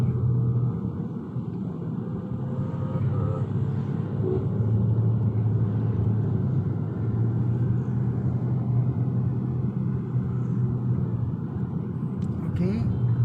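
Car cabin rumble with a steady engine hum during a driving lesson, rising slightly as the car gains speed, while an instructor talks over it.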